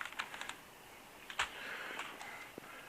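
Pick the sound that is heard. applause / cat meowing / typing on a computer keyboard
typing on a computer keyboard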